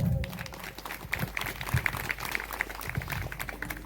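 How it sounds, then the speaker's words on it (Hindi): An audience applauds after a dance performance depicting the Radha-Krishna raas leela, with a crowd clapping steadily. Some sharper, closer claps stand out above a continuous wash of applause, and low rumbling sounds come and go underneath. "एक बार आप सब भोजन जोरदार ताली बजा दो।"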